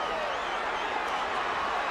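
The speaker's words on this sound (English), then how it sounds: "The crowd sensing something." Boxing arena crowd at the Thomas Hearns versus Iran Barkley fight, a steady murmuring roar of many spectators stirring as body shots land, continuous and moderately loud throughout.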